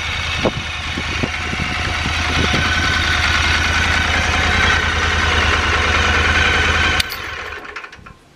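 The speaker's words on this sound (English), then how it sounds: "Really nice grumble from the exhaust there." A standard engine idles with a deep, steady exhaust grumble, close and loud, running evenly for about seven seconds before it drops away sharply and fades.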